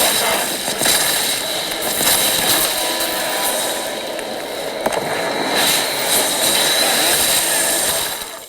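Game sound effects played through the built-in speakers of a gaming laptop with a Core i7-13650HX and RTX 4060, a dense, steady wash of loud rushing action noise with thin bass and sharp bright details scattered throughout.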